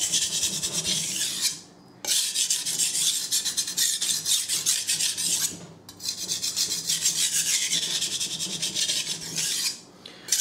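A kitchen knife blade scrapes rhythmically across a sharpening stone in long raspy strokes, with brief pauses between passes, close and clear.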